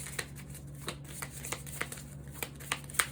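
Tarot cards are shuffled by hand close up, a run of quick, crisp riffling flicks repeating in a fairly regular rhythm over a low background hum.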